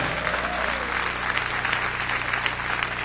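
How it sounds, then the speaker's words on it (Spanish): Church congregation applauding, a steady dense wash of clapping from a crowd heard continuously and fairly loud throughout. "Dele fuerte ese aplauso al Señor."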